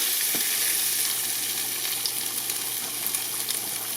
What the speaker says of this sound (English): I just got some bacon going back there